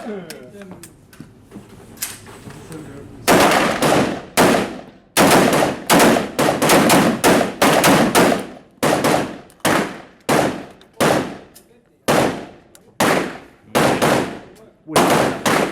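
Close, loud gunfire from a firearm at an indoor range: after a quieter opening, a long series of sharp shots in pairs and short bursts with brief gaps between them, with speech faintly present.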